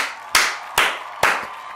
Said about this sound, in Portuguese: eu tenho que aplaudir